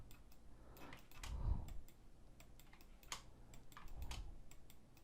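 Keys clack on a computer keyboard while modelling in Rhino 3D, quiet close clicks in quick irregular bursts, with a couple of heavier strokes on the Enter key standing out.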